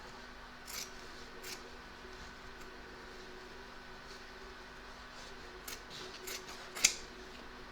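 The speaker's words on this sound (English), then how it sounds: "I'm going to trim up a little bit of the stabiliser so that it's not in the way as well" Scissors snip through embroidery stabiliser while trimming an in-the-hoop gnome keyring tag, giving a few faint, sparse cuts and one sharper close snip over quiet background hum.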